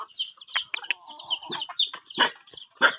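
A barred chicken clucks and calls close by in a rural forest setting, with short, irregular chirpy clucks mixed with other faint bird sounds.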